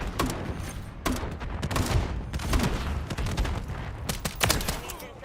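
Video game gunfire crackles in sharp, repeated bursts, several close shots and short volleys spread unevenly over a busy background rumble.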